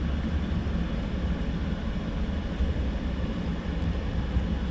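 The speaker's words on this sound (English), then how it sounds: "Another EasyJet taxiing down." EasyJet airliner taxiing at Luton Airport in the early morning, a steady low rumbling engine drone that holds evenly throughout, fairly distant with no talk over it.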